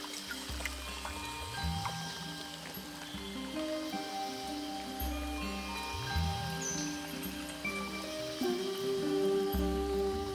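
Steady rain falling in a tropical rainforest, a soft continuous patter of drops on leaves with low rumbling underneath, moderately quiet and with no voices.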